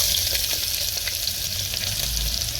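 Onion and four or five curry leaves fry in hot oil for a ridge gourd curry, giving a steady bright sizzle with faint stirring crackles and no voice.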